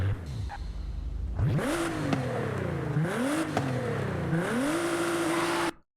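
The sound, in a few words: car engine revving in Forza video game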